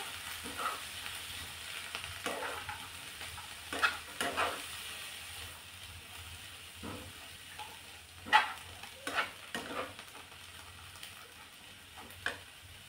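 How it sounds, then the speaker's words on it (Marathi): Cabbage bhaji with soaked chana dal being stirred in a pan, scattered scraping spoon strokes over a faint steady sizzle, close and fairly quiet, with no talking. "आता हे छान असं मिक्स करून घ्यायचं।"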